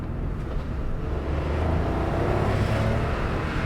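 Suzuki Alto Turbo RS driving along a road while downshifting, its engine and road noise a steady, close, broadband hum with slight swells in pitch and no talking.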